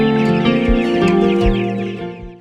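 Cornish Cross meat chickens cluck continuously in a dense, close flock chorus, with repeated low soft thumps underneath.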